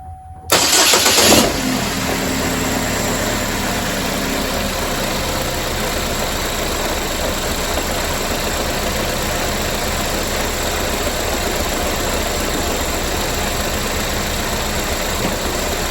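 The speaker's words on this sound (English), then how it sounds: "So let's start it up and look at the temp gauge in here and see." A 2017 GMC Terrain cranks briefly and catches, then settles into a steady, close, even idle that runs alone to the end.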